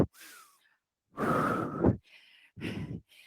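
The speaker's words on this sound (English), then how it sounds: "Maybe some residual breathing happening." Heavy breathing after a circuits workout, with several loud separate exhalations and sighs separated by short silences, close and alone.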